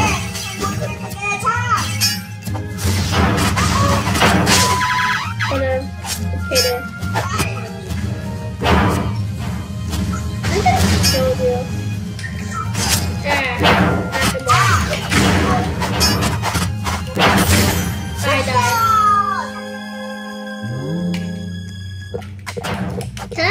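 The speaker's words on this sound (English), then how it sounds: "Why are you destroying my base?" Structures crashing and shattering as a base is wrecked in the Roblox game Super Doomspire, a dense continuous run of smashing and breaking impacts with game music, staying loud throughout before easing near the end.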